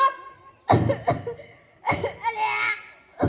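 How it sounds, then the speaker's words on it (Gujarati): A performer coughs on stage during a school comedy programme, two rough voiced bursts set apart by a short pause, close and fairly loud, with vocal sounds after them. "શું થયું તને ખાંસી આવે છે"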